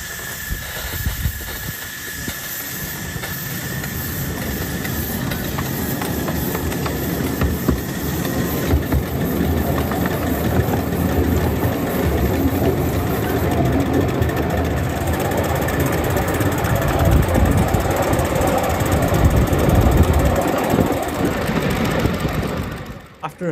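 A 5-inch gauge GWR Prairie model steam locomotive runs on a miniature track, giving a continuous steam hiss with rumbling wheel and engine noise building steadily throughout, close and loud, with no talk.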